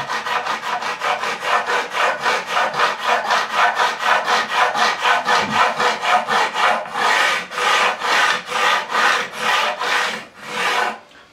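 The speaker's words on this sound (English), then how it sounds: "I'm going to hit it with the diamond file, precision flat diamond file from Chris Allsop." Precision flat diamond file leveling the frets on a Fender Tom Delonge Stratocaster, heard as a steady run of close, rhythmic rasping back-and-forth strokes that slow into longer, separate passes near the end.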